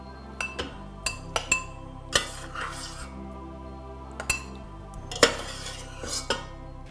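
Clinks and taps of cutlery against a bowl as quinoa is served in a kitchen alongside polenta and Greek olive oil, a string of sharp close metallic and ceramic knocks at an irregular pace.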